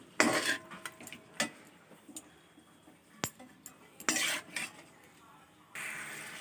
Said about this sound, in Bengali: সামান্য একটু লবণ দিয়ে চিকেনটাকে একটু ভাজা ভাজা করে নিতে হবে